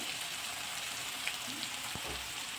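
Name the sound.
onions frying in hot oil with bay leaves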